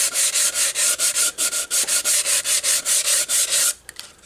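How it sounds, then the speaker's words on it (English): Sandpaper rubbed by hand along a wood veneer edge in a steady run of about fifteen quick, even strokes, close and loud, before it stops abruptly. "we could get a piece of sandpaper right now"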